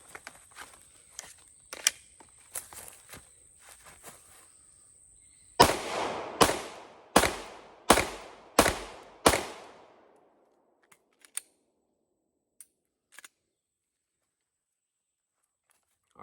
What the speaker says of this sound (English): that string of fire felt a lot better because I was focusing on getting the trigger reset and not driving the gun down before